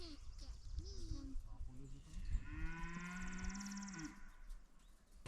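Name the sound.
cows mooing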